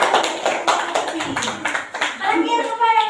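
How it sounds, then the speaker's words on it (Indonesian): Students in an Indonesian classroom give a short burst of hand clapping for a group that has just presented, and children's voices and chatter follow. "beri tepuk tangan kepada kelompoknya teman-teman"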